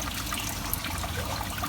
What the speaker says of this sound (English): You can see the water keep on flowing.